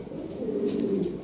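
Fancy pigeons kept for sale coo in a short, low, rolling murmur that sounds close and fairly soft, with a faint hiss behind it and no talking.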